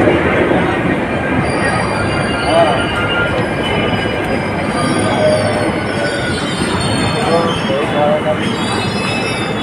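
A Mumbai metro train rumbles loudly up close, its wheels squealing and grinding continuously on the rails.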